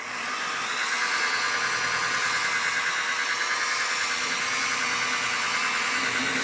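A polishing pad spins against yellowed plastic headlight lens, a steady high-pitched whirring grind that holds an even, loud drone for the whole stretch with no voices.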